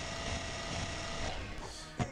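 A saw cuts into a monster in a video game, giving a continuous, dense mechanical buzz up close that holds steady for about two seconds before a short thud near the end.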